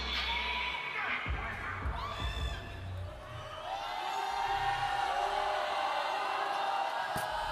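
Spectators at a 3x3 basketball tournament shout, whoop and jeer at a player taking free throws, a loud mixed crowd clamor with rising calls and whistles that swells toward the end.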